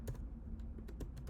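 A short burst of keystrokes on a computer keyboard as a package install command is typed, a few soft, quiet clicks against a low background hum.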